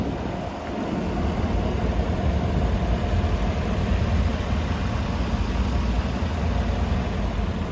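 A 2020 Chevrolet Suburban LT with a 5.3-liter V8 idles steadily, a constant low rumble with a faint background hiss, heard alone without any talking.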